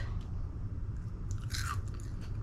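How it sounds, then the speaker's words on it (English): Crispy air-fried yellow squash is bitten and chewed close up, a few quick crunches over a low background rumble, no talking. "Did you hear that little bit of crunch?"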